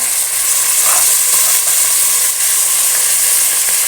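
Potatoes, carrots and raw green peas are stirred and fried in a hot pan for palak paneer pulao, giving a loud, steady sizzle and hiss with scraping stir noises throughout and no voices.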